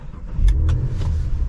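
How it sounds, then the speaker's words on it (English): A 2022 Cadillac CT4-V Blackwing starting up, heard from inside the car: a brief starter whir, then the engine catches into a loud, deep idle with a steady low rumble. "We can go ahead and fire it up."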